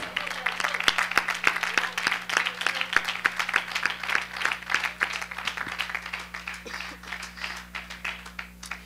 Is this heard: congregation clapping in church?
yes